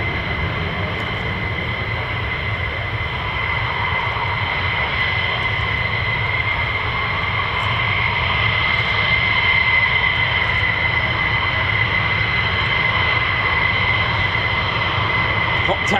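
F-15 and F-35 fighter jets taxi at RAF Lakenheath with the 48th Fighter Wing. A steady high turbine whine sits over a deep rumble, loud and unbroken for the whole stretch.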